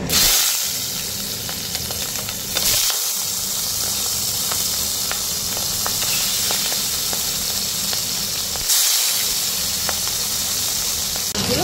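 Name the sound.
tangra fish frying in hot mustard oil in a wok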